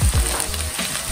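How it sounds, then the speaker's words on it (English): Potatoes sauté in butter in a hot pan, giving a close, dense sizzle and crackle with a few low thumps and scrapes as the pieces are moved around. No one talks. "On this side, I want us to continue cooking this potato."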